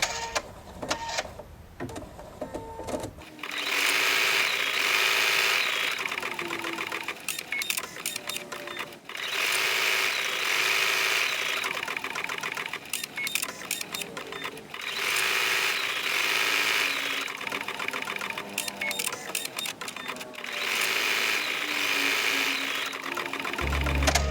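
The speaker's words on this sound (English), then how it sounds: "so you can actually see it embroider here" A Pfaff Creative Sensation Pro sewing machine stitches embroidery with a loud, fast, steady mechanical whir and needle clatter that runs almost without pause for over twenty seconds after a brief quiet start.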